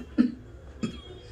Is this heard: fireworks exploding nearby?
no